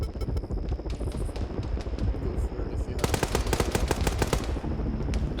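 Rapid automatic gunfire from a video game aimed at a helicopter, dense bursts of shots rattling continuously and growing heavier partway through, with engine drone underneath and voices talking over it.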